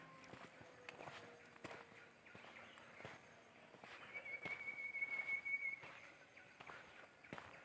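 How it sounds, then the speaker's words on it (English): A short, thin whistle sounds once partway through on a forest trail around Khao Chee Chan, faint and brief over scattered footsteps and quiet outdoor ambience. "Ooh, that whistle."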